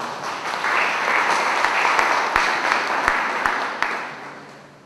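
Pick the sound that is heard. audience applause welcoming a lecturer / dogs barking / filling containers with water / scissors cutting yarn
audience applause welcoming a lecturer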